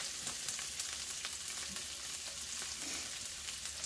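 Onions frying in oil, a steady, quiet crackling sizzle with soft pops, heard alone.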